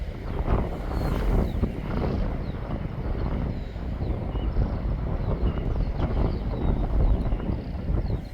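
Steady, blustery wind at a Scottish Highlands campsite on the NC500 buffets the microphone throughout, a constant rumbling roar with gusty swells and no talking.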